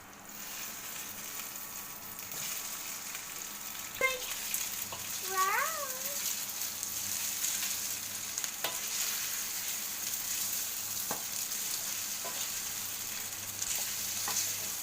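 Pasta being stirred through capsicum and coriander leaves in a frying pan, a steady soft sizzle with a few scraping stir strokes and occasional light clinks.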